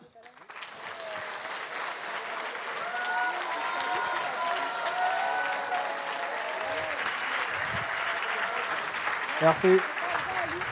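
An audience in a hall claps steadily for a speaker at an entrepreneurs' talk, a dense sustained wash of applause after a quiet start, with a brief spoken word near the end.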